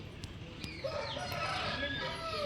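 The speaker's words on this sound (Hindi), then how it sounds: "इधर मुर्गी है।" A hen at a grandmother's house gives a few short clucks nearby, with a voice talking at the same time.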